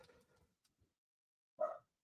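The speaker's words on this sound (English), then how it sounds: "We got Skeeter barking" A single short dog bark rings out clearly near the end, after a stretch of faint, scattered background noise.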